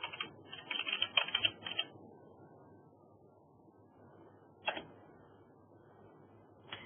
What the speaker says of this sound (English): we want to type in influenza